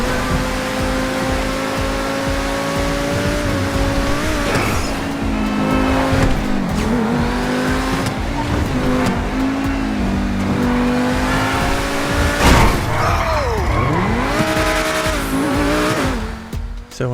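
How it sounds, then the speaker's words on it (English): Progen T20 supercar engine from GTA Online revving hard and loud throughout, rising and falling through gear changes with bursts of tire squeal, heard alone without talk. "I'll shut up talking for a minute so you can have a listen."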